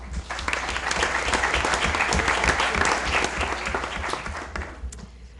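Audience applause at a school board meeting: a full round of steady clapping from a crowd, loud and sustained for several seconds before tapering off at the end.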